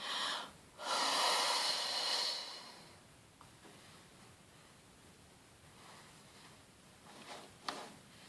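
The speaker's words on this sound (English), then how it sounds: "if you breathe out all the way" A long forceful exhalation during a yoga breathing practice, a loud rushing breath out near the start that fades into quiet room tone.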